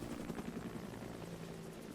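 A steady, dense rotor drone fills the whole stretch as a helicopter in Metal Gear Solid V: The Phantom Pain flies, a constant close whir with faint beating, with no talking.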